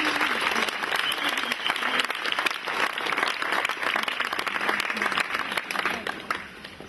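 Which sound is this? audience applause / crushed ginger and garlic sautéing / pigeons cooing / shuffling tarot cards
audience applause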